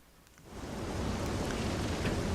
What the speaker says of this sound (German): Es regnet. Ist ja nie ein gutes Zeichen